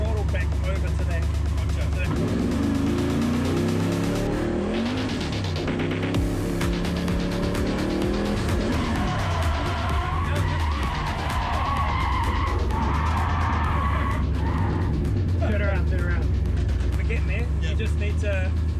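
A drift car on a clutch-kick entry, its engine roaring loud and steady as the tyres skid and squeal through the slide, with people talking over the noise.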